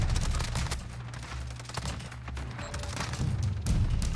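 PP-Bizon submachine gun fire in Modern Warfare gameplay, dense rapid bursts of automatic shots rattling close and loud across the whole stretch, without talk.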